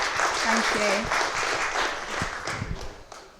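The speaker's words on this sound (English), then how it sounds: "A round of applause for Julia and the community work." Audience applause at a boxing press conference: dense, steady clapping from a crowd that holds for about three seconds, with some voices murmuring and calling out underneath.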